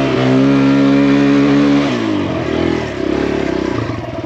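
Dirt bike engine revving hard on a climb up a wooded trail, a loud, close, sustained whine that drops in pitch partway through, then pulses and rises again as the rider pushes uphill.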